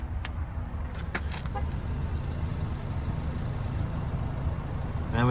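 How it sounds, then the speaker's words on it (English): A 2023 Chevrolet Equinox RS with a single pipe exhaust idles steadily, a low, faint, even engine hum heard close up with a few brief clicks near the start. "And we have a single pipe exhaust."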